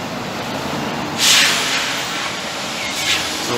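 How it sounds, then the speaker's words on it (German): S-Bahn commuter train on the Dresdner Bahn line at Marienfelde, Berlin, approaching as a steady broadband hiss and rumble with a brighter hissing swell partway through and a softer one near the end. "da kommt jetzt die nächste S-Bahn aus Marienfelde"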